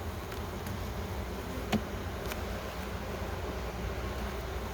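Honey bees in a national hive buzz steadily through an inspection, a soft, even hum that stays close and continuous, with one faint knock partway through and no talking.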